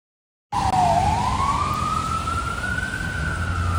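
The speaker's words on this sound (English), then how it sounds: "Oh, so sirens coming." An emergency vehicle siren wails on a rainy Toronto street, one long rising tone over a steady hiss of wet traffic, fairly close and continuous after a moment of silence.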